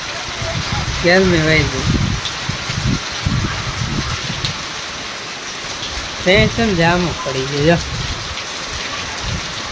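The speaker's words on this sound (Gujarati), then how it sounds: "બહુ જ આવ્યો પવન ને વરસાદ" Heavy rain lashes down with wind in a steady, loud wash, while people talk over it at close range in two short bursts.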